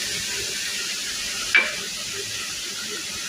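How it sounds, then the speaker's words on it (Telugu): Spices frying with onion in oil for a prawn fry, giving a steady broadband sizzle throughout with one brief louder scrape of stirring midway; no talking. "ఇవి పచ్చివాసన పోయేదాకా వేసుకోవాలి"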